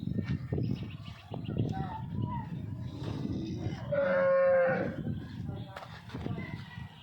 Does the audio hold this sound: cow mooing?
yes